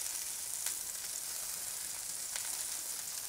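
Blackened ahi tuna searing on a hot Blackstone griddle, giving a steady close sizzle with faint crackles and no voices.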